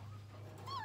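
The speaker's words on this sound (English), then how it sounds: "by all these cute puppies" Goldendoodle puppies give a brief, faint whimper with a rising and falling whine near the end, set over a steady low hum and no speech.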